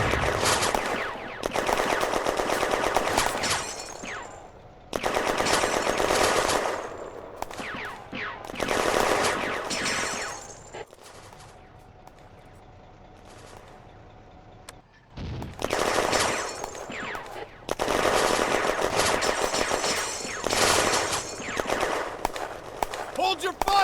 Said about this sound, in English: The AMR-35 provides additional covering fire to keep the Germans' heads down.